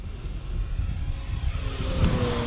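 A Tower Hobbies DHC-2 Beaver RC airplane with floats at full throttle, its small electric motor whining faintly and rising in pitch toward the end over a low outdoor wind rumble.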